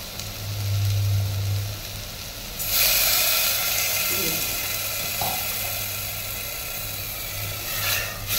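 Spice-bowl rinse water poured into soybean curry masala frying in a pan, bursting into a sudden loud hiss that settles into a steady close sizzle.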